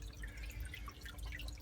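Water trickles and drips steadily in an off-grid aquaponics setup with an adjustable flow box, a soft continuous patter over a low background hum.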